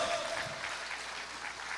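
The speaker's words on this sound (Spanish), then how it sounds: "Da un aplauso al Señor." A church congregation applauding during a sermon, a dense, even wash of clapping that holds at a moderate level through a short burst.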